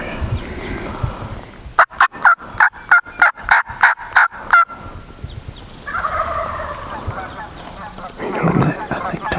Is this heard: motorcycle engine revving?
no